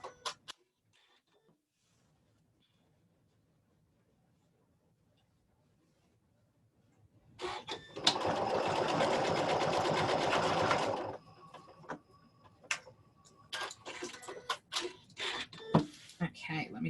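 Domestic sewing machine stitching quilting lines through patchwork fabric, a steady loud mechanical whirr running in one sustained burst after a quiet stretch, then short stop-start bursts and handling clicks.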